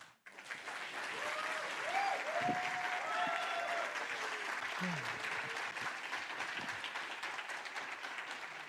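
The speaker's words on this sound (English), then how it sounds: "So please give it up for her. With warm applause." A conference audience applauds a cybersecurity analyst from GoSecure taking the stage, steady dense clapping filling the hall throughout, with faint voices and a brief whistle-like tone mixed underneath.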